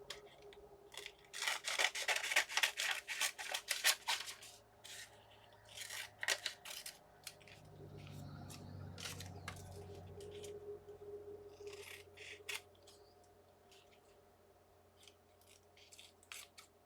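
Scissors trim washi tape at close range, a quick burst of rapid snips followed by scattered single cuts and soft rubbing and handling sounds, with no talk.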